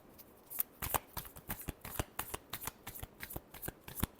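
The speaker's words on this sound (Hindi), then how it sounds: "Last shuffle." Tarot cards being shuffled by hand, a close, quiet series of crisp riffling slaps and flicks in a rapid, roughly regular rhythm, with no talking.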